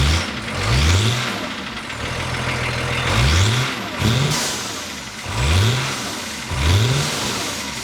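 A BMW E34 with a diesel engine, fitted with a large stainless straight-through muffler and twin big tips, revs repeatedly: five or six sharp rising throttle blips over a steady idle, loud and close, with no talk.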